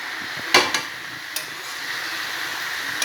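Shredded cabbage curry stirred in a hot pan, with sharp scrapes and knocks of the spoon against the metal over a steady frying sizzle, close and fairly loud.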